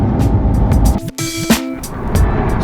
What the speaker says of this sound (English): we have fitted an iPE exhaust, and that is why I'm in the car today, for you guys to have a listen